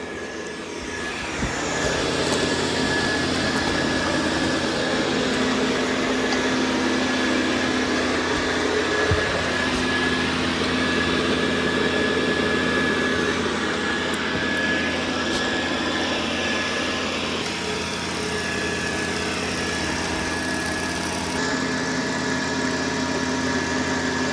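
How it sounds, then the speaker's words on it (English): A Dreame L10S Ultra Gen 2 robot vacuum running in vacuum-only mode while cleaning a corner, giving a loud, steady motor whine and airy suction roar that holds throughout with a high tonal hum. "we're going to see how the Dreame L10S Generation 2 does in the corner"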